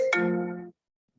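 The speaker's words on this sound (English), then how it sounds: "I thought I turned my phone off. I guess not." A mobile phone ringtone chimes once in a lecture hall, a single bright tonal ring lasting under a second and then cutting off into silence.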